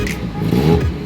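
A Mazda Miata engine revving up and easing back in a short, loud burst, close by, with a rough low growl.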